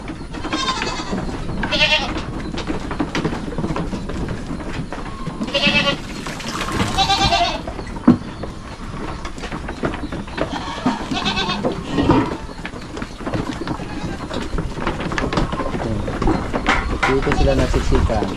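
Goats bleat repeatedly at a farm pen, with several overlapping calls near and far over steady background noise, while people talk at times.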